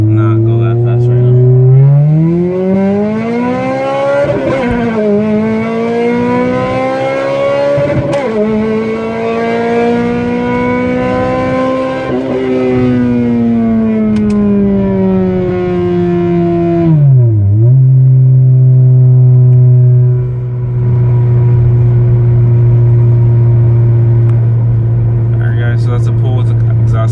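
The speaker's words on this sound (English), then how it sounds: "Alright, pull with exhaust cutout open." A 2006 Toyota Corolla XRS engine revs and pulls hard with the exhaust cutout open, loud and raspy, pitch climbing in long surges and dropping between shifts, close and continuous.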